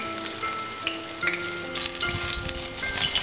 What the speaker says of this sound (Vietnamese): ban đầu mình sẽ chiên sơ đậu hũ